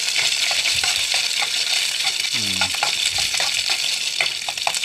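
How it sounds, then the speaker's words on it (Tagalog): Chopped garlic sautéing in a hot pan, loud steady frying sizzle with clinks of a utensil stirring and scraping throughout, no talking. "Nagisa po muna ako ng bawang."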